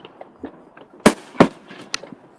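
Fireworks exploding outdoors at a distance, two loud booming bursts close together with scattered smaller pops and crackles around them, no talking.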